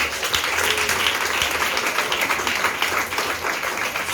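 A church congregation applauds together, dense continuous clapping filling the room at fairly close range, steady for the whole stretch with no pause and no talk over it.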